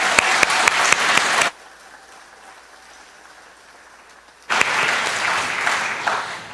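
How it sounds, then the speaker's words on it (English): Hearty crowd applause at a 4-H awards ceremony honoring record book winners, a loud burst of clapping that cuts off into a quiet pause before a second round of applause swells back up. "Let's give all our winners another out of this world round of applause."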